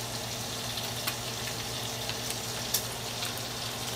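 Food frying in hot oil in a pan makes a steady soft sizzle with occasional faint pops, close but fairly quiet, and no one talks.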